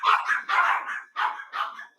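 Dogs bark at someone at the door, four close, loud barks in quick, uneven succession with no voices.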